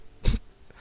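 A single sharp, loud sneeze bursts out, short and explosive, followed by quiet.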